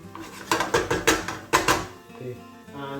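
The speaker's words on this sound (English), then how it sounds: "Give that a good mix up." Spaghetti tossed with garlic in a pan makes a quick run of rhythmic clattering scrapes and knocks from a utensil against the metal. The strokes then settle into softer handling sounds, and a faint tonal background sits underneath.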